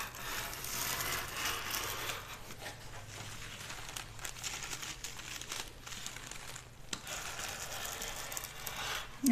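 A rotary cutter rolls through dress fabric at close range, making repeated crinkly, ratcheting grinding strokes with brief pauses, quiet and unaccompanied by speech.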